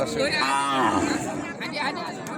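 A dairy cow at a cattle market lets out a single drawn-out moo close by, followed by faint background chatter and scattered noises.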